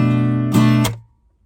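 Strummed acoustic guitar chord ringing briefly before a quick clipped mute, a percussive scrape and thump closing it off, followed by near silence.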